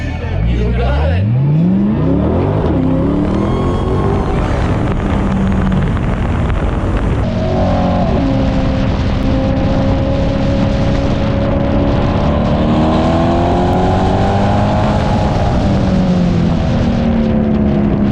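A Corvette engine loud and close during a victory lap at a drag strip, with a steady roar and sweeping rising and falling pitch as it revs and shifts, and voices under the noise.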